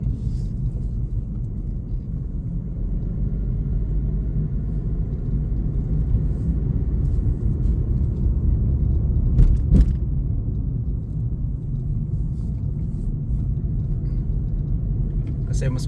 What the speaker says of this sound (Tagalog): Kasi mas masarap din na drive tong maliit na sasakyan.